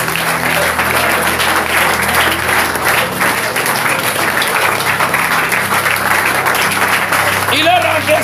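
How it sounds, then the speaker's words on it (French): A church congregation bursts into sustained applause in praise, dense continuous clapping from a crowd filling the room, with a voice emerging near the end. "Applaudissons pour le Seigneur Jésus."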